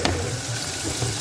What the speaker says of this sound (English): just pour in the water I rinsed out from the blender